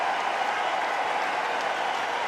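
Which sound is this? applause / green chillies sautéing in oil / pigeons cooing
applause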